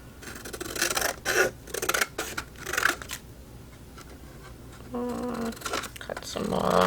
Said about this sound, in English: I'm going to cut away this inner flap